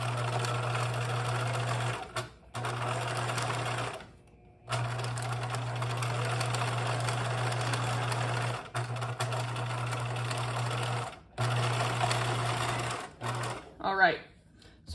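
A sewing machine stitches fabric for a French seam in steady mechanical runs, stopping briefly several times between bursts. A voice is heard briefly near the end.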